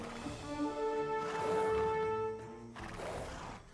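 A horse whinnies loudly in Age of Empires 2 DE, a long tonal neigh that rises and then trails off over game ambience, with clip-clop hooves faintly beneath.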